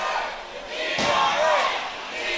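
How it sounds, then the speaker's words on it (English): Crowd at a CCW Bash at the Brew wrestling show in Miami cheers and shouts in a continuous roar that swells sharply midway, with a brief impact and a rising voice briefly standing out above the din. "Now the crowd getting behind ERA."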